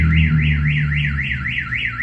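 A car alarm goes off nearby, loud and close, with a rapid rising-and-falling siren sweep repeating about every quarter second over a low steady hum.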